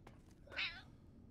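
A single cat meow from a cat character in the video game Fallout: New Vegas, clear and fairly close, a short rising cry over quiet game background.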